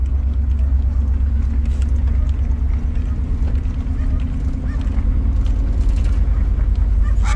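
The engine of a Ram Rumblebee pickup truck rumbles loudly and steadily up close, a deep continuous throb with no voices over it.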